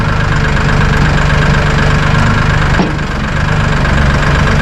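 A Massey Ferguson 1800E tractor engine idles steadily at 1,000 RPM, a loud, close, continuous low rumble with an even mechanical throb and no speech.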